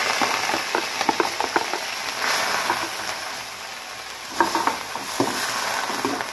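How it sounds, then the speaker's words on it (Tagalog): Squid sautés in hot oil, a steady sizzle and crackle broken by scattered clinks and scrapes of stirring, fairly close and loud with no voices. "Pag mainit na yung mantika, una natin, gisahin natin tong pusit."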